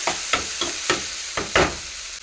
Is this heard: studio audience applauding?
no